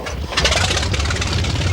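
An old airplane engine catching on start-up, a loud close rough sputtering rumble that quickly settles into a steady running roar.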